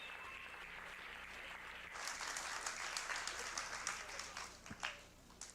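An audience applauds a performer at a French-language event, a steady wash of clapping that swells partway through, with faint voices under it.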